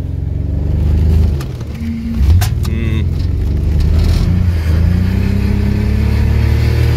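A BMW E36 engine revs hard during skids, steady mid-pitched roar with surging rises and dips throughout, close and loud, with brief squeal-like bursts and occasional voices underneath.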